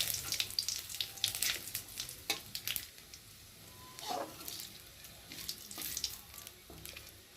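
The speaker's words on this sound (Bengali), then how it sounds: "ফোড়নটা ভাজা ভাজা হয়ে এসেছে" Cumin seeds and bay leaf tempering in hot oil in a kadai give a soft, steady sizzle with brief louder crackles and a few clinks, close by and without talk.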